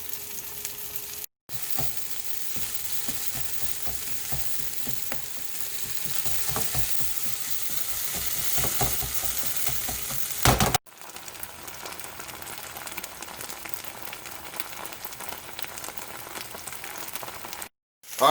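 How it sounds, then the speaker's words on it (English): Chorizo browns in a frying pan with a loud, continuous crackling sizzle that goes on for many seconds, broken by a couple of abrupt cuts. "gonna brown this chorizo up"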